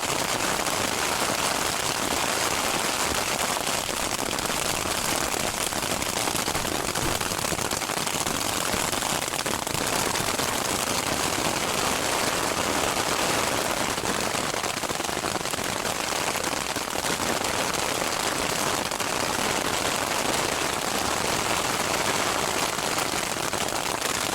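Hail pelting a campsite at about 11,000 feet on a mountain trail, a dense, constant rattling and pattering that stays loud and even throughout with no voices.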